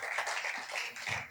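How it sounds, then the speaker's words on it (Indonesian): A church congregation claps for Jesus during a sermon, a dense, steady burst of applause from many hands that fills the room briefly. "Tepuk tangan buat Tuhan Yesus"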